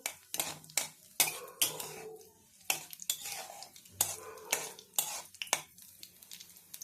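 Raw pumpkin pieces with nigella seeds and green chillies are turned in a pan, giving a quiet series of uneven scrapes and metallic clinks from the utensil, each stroke separated by short pauses, near and without talking.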